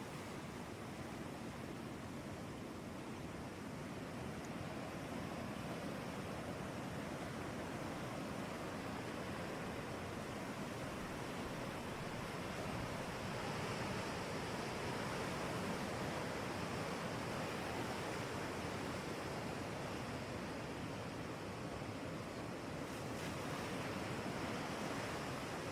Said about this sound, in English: Oh, the ocean. The sound of the ocean.